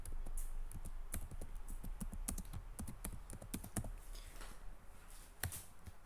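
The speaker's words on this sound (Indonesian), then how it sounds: "kita ketik di sini." Quiet, rapid keystrokes on a computer keyboard while data is typed into an Excel spreadsheet, irregular clicks in short bursts, close and alone.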